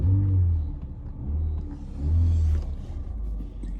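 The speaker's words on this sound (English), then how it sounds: "the car's running" A Ford car's engine idles nearby with a steady low rumble that swells and eases in slow waves, no voices present.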